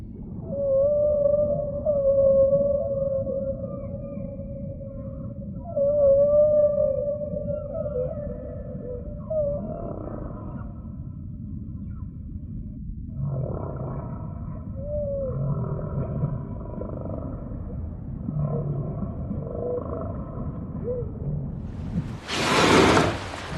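Whale calls in the open sea: long, drawn-out tonal moans and wavering cries, several in sequence, followed by a sudden loud whooshing burst at the end, with no voices.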